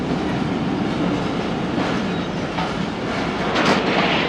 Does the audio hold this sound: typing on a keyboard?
no